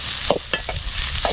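Onions frying in oil in a pan while being stirred, a steady bright sizzle broken by several close scraping stirs of the utensil against the pan, with no one talking.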